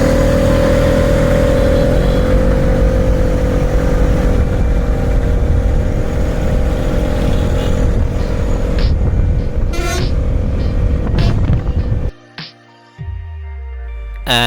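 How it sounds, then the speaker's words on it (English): A 2021 Vespa VXL 125cc BS6 scooter carrying two adults accelerating from standstill to 60 km/h, a loud steady engine drone rising in pitch over about twelve seconds with wind noise, then cutting off abruptly. "So let's do a 0 to 60 km per hour run on this 125cc moped."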